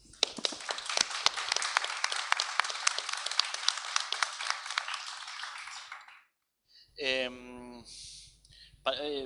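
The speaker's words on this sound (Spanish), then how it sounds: "Pido un aplauso." Audience at a library talk on dystopian literature clapping for about six seconds, crisp individual claps in a small room, then it stops and a person begins speaking.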